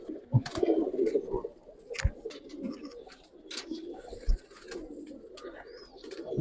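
Male pigeon at a Giribaz pigeon farm cooing in low, rolling bursts close by, with other birds chirping faintly and occasional clatter in the background.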